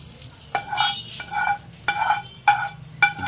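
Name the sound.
tempering added to chutney, sizzling and stirred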